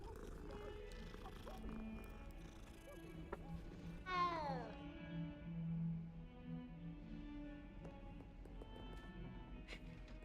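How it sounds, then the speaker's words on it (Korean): A cat in the video game Hogwarts Legacy lets out a short, high meow. It sits faintly among soft background music and ambience. "고양이다."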